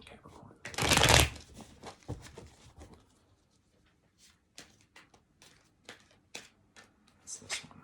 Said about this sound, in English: Giving you an extra shuffle, Capricorn.